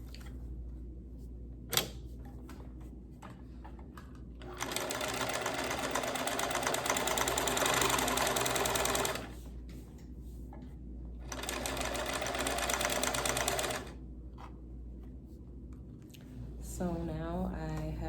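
A sewing machine stitches the seam of a ruffle pillowcase for an IKEA body pillow, running in two long, steady, buzzing bursts separated by quiet pauses, with a soft voice briefly at the end.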